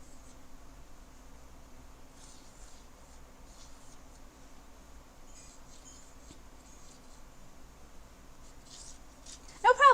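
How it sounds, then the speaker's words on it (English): Colored pencil scratching across paper, a soft continuous scribbling texture held close and fairly faint, with a brief louder bump at the very end. "you can use a colored pencil for this"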